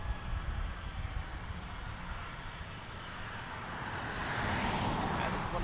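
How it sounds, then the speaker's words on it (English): Virgin Australia jet moving onto runway 34 at Melbourne Airport, a distant broadband engine roar with faint hiss, swelling gradually louder toward the end. "Virgin Flight 91 is starting to enter runway 34 for its departure."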